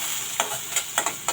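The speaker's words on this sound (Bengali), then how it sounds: "এখন দিয়ে দিলাম তেল, দিয়ে দিলাম পেঁয়াজ কুচি, সাথে কাঁচামরিচ। এখন ভালোভাবে ভেজে নেব।" Chopped onion and green chilli fry in oil in a pan, giving a continuous sizzle. Several quick scraping stirs cut through it at close range, with no talking.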